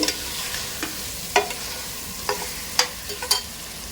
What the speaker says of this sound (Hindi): और अब इसकी भुनाई करेंगे।